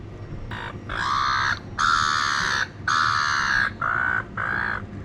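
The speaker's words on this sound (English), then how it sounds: "seagulls want my food, of course." Gulls call repeatedly in loud, harsh bursts close by on the coast at Bicheno, Tasmania, with short gaps between cries over faint background rumble.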